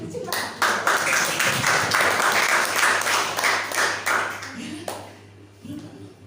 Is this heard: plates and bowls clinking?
no